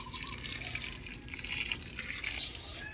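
Water from a small pour trickling and splashing onto garden plants, a soft, fairly faint continuous gush lasting a few seconds without talk.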